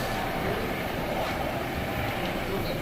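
A train passing at Cold Spring station gives a steady, loud, continuous rumble and rush that holds evenly throughout without a clear build or fade.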